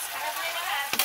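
Marinated meat hits a hot pan in a wedding-style home kitchen, giving a bright, steady sizzle close up with a brief clatter near the end.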